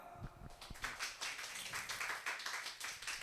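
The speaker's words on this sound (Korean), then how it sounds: "꽃 드리면서 우리 축하의 박수를 부탁드립니다" A small youth worship service congregation claps in celebration, a sparse and somewhat uneven run of hand claps at moderate distance lasting several seconds, with no voices over it.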